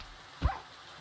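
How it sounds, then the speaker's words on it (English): A single short dog bark inside the Minecraft video game, one sharp mid-loud yip standing alone against a quiet rainy game background. "Dumb dog."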